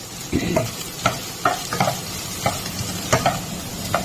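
Tomatoes frying in a hot pan with onions, a steady sizzle broken by repeated scraping strokes of a spatula stirring the pieces, close and fairly loud, with no talking.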